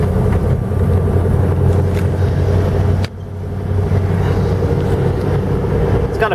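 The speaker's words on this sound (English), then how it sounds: "Down the window so you can hear the exhaust a little bit better here." A 1977 Dodge Ramcharger SE 4WD with a 440 big-block engine rumbles steadily while driving, a low droning exhaust with wind noise through an open window, briefly dipping before building again.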